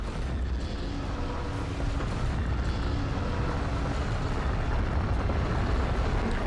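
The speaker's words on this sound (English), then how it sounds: "And just for good measure, we'll finish off with a big boom." Continuous heavy rumbling explosions in Hearts of Iron 4, a dense roaring barrage of booms with no pauses, loud and close.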